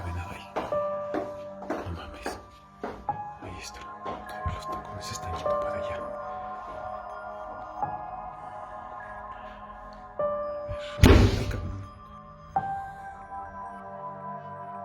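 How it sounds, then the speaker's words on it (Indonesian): An apartment door slams shut by itself in a played recording: one sharp, loud bang stands out partway through, with talking before and after it. "Di akhir satu video yang ada di dalam apartemennya, bahkan itu kebanting sendiri pintunya."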